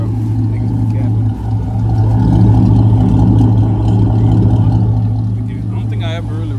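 A Can-Am Renegade 1000 XMR ATV engine runs at a steady, loud idle, swelling slightly as it is revved, with someone talking over it.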